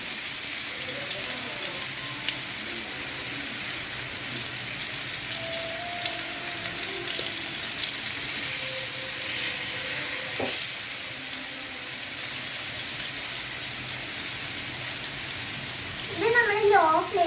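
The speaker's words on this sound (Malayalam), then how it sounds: "ഇനി നമുക്ക് ഇതൊരു പാനിൽ എണ്ണ ഒഴിച്ചിട്ട് ഇതിലേക്ക് നമുക്ക് നമ്മുടെ ചിക്കൻ ഇട്ട് കൊടുക്കാം." Chicken frying in oil in a pan on low flame, a steady loud hiss and sizzle throughout with faint background tones, and voices briefly heard near the end.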